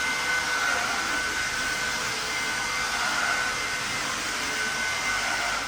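An ATVEL W425 Monza washing machine runs a wash cycle, giving a steady, continuous whirring hum with broad noise, fairly loud and close, with no talking.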